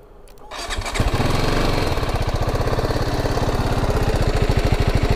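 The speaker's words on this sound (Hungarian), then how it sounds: "Az ablak alatt be lehet indítani, mert nem nagy hangja van, még cibálva sem." A BMW G 310 GS motorcycle engine cranks over and catches, then settles into a steady, fairly quiet rhythmic idle close by, with no talk.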